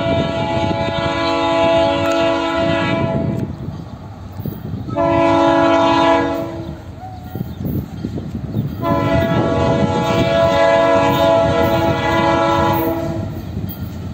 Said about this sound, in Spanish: Silbato con todo.